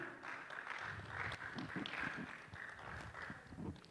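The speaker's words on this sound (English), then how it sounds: "Let's give him a round of applause" Applause from a conference audience welcoming a country director to a literacy panel, a steady wash of many hands clapping at moderate distance, sustained for several seconds with soft thuds and murmurs underneath.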